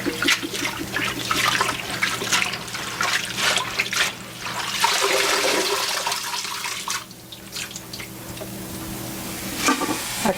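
Tap water runs and splashes steadily over collard greens being washed in a sink, with stirring and sloshing of the leaves throughout, fairly close and continuous.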